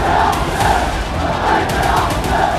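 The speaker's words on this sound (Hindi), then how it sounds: "जगह जगह भीड़ सड़कों पर इकट्ठा होकर नारेबाजी कर रही है" An angry crowd gathered in the streets chants slogans in loud, rhythmic surges, many voices rising and falling together in a dense, continuous roar.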